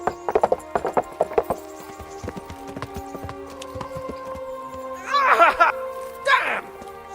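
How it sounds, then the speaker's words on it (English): Horse hooves clip-clop in the medieval video game Kingdom Come: Deliverance, a quick run of distinct hoofbeats up front, then quieter scattered steps under a steady musical drone, followed by two louder bursts that sound like a horse snorting or whinnying. "Stay away from Pete if you can't ride a horse"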